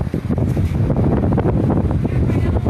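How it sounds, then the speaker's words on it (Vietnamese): Air from a homemade steam cooling fan rushes steadily and buffets the microphone about five metres away, making a loud, rumbling wind roar that lasts throughout. "5 mét vẫn có gió."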